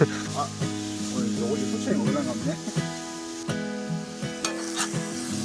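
Spicy chicken dakgalbi sizzles and fries in a pan at a cold winter mountain campsite, a steady crackling hiss with stirring clatters and clinks throughout, fairly close and moderately loud.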